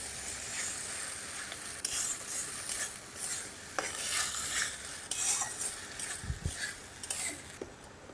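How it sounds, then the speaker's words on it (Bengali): Ground pointed gourd paste fries in a pan with a continuous crackling sizzle. Scraping stirs and occasional light clinks of a spoon against the metal run through it. "পটল বাটাটা ভালো করে একটু ভেজে ভেজে নেব আগে"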